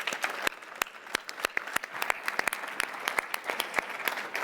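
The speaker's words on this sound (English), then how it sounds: "if you could just ask everyone for a round of applause" A small audience at a sports governance panel discussion applauds, with distinct, sharp individual claps in an irregular, fairly sparse rhythm, close and moderately quiet.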